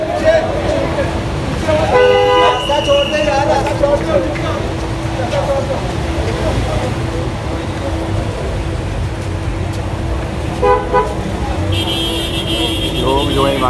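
Crowded street outside a police office in Lahore as Imran Khan's car arrives, with repeated car horn toots and steady traffic rumble, loud and close, and voices of the crowd mixed in.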